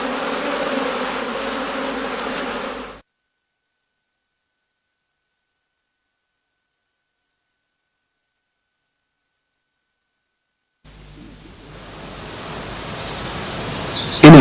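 Honey bees shaken out of heather skeps at a farm buzz in a dense swarm for about three seconds, then the sound cuts to silence and a rougher buzzing hum returns near the end.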